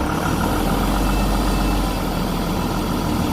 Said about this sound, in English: Just leave that engine run for a while.